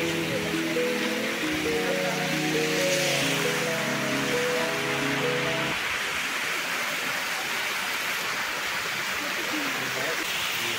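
Water rushes steadily at Kimadi waterfall near Dehradun, a constant broad roar heard up close, with a voice talking over the first half.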